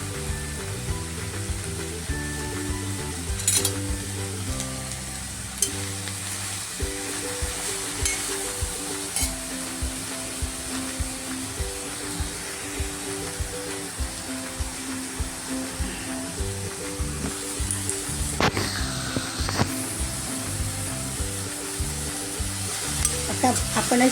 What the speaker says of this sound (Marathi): फक्त 2 चमचे तेल टाकले आणि याची परतून घ्यायची तेलावर